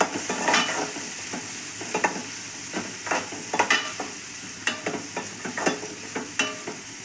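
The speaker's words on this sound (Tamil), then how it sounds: "இப்போ பச்சை மிளகா காஞ்ச மிளகா ரெண்டையும் போடுக்கிறோம் நல்லா டார்க் ப்ரௌன் கலரில் வர வர வதக்கப்படும்" Green and dried chilies fry in a pan with a continuous, close sizzle, broken by repeated scraping stir strokes at an irregular pace.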